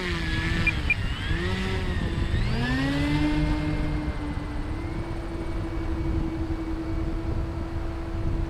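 An E-flite Carbon-Z Cub SS 2.1 m electric RC airplane takes off, its motor whine rising steadily in pitch and then holding a sustained steady tone, close by and loud against a constant outdoor background.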